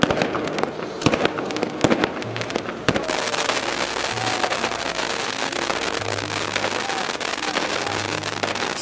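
A Super Tank firework goes off outdoors with dense, continuous crackling and popping bursts that fill the scene at steady loudness, backed by a low hum.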